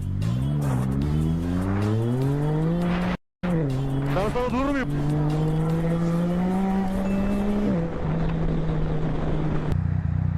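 Motorcycles rev and accelerate while fleeing police in Turkey, a loud continuous engine drone rising and falling in pitch with brief squealing, close and steady, with a short dropout midway and people talking over it.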